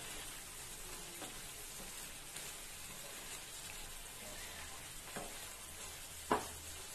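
Egg paniyaram gravy simmers in a pan on a low flame while being stirred, with a steady soft sizzle, a few scraping stirs and one sharp utensil knock near the end, with no voices.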